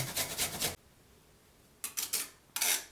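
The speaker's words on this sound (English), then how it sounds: "Grate a piece of ginger to get 1 teaspoon." A piece of ginger being grated up close: three bursts of dry, raspy scraping, the first longest, separated by a quiet pause.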